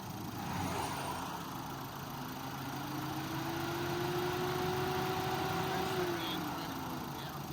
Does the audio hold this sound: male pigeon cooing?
no